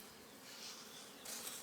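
Honeybees in an opened, crowded hive give off a dense, continuous buzz close up, swelling a little toward the end, with no talk over it.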